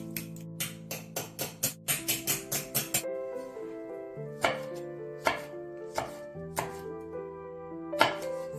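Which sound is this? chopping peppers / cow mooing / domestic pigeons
chopping peppers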